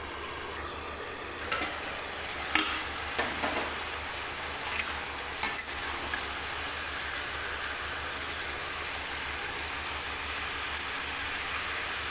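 Potato and bean vegetable dish frying in a pan and being stirred, a steady close hiss of sizzling with a few soft scraping knocks early on, no talking.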